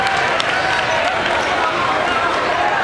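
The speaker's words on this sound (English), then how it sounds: "So listen to the crowd when he goes to the line." A high school basketball crowd in a gym keeps up a steady roar of cheering and clapping as a player steps to the free-throw line, dense and continuous, with someone talking over it.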